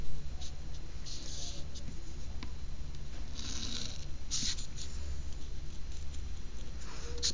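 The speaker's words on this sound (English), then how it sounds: "let's draw an angle here." Pencil scratching across paper in short strokes and pauses while an angle is drawn for a geometry construction, close up and steady, with no voices.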